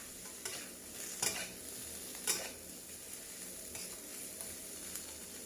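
Baby corn and then carrots stir-fried in a pan for a vegetarian glass noodle dish, giving a steady soft sizzle broken by a few sharp scraping stir strokes, fairly quiet with no voices.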